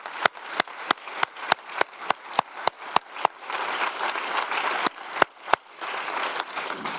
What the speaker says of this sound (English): a round of applause for the new fellows